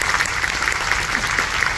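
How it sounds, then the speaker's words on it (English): A live audience applauds during an onstage interview aboard the Majestic Princess cruise ship, with sustained, even clapping from a crowd heard nearby without pause. "So let's give her a big round of applause."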